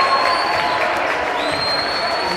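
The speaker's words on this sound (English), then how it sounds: "He's clapping." Crowd at a college men's basketball game applauding and cheering in a gym, a steady broadband roar of clapping that fills the whole stretch with no gaps.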